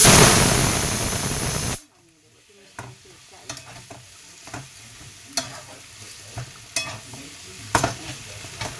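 Coriander leaves stirred into a frying dish: after a loud sizzling burst, the spatula scrapes and knocks against the pan in irregular clicks over a soft background sizzle, with no talk.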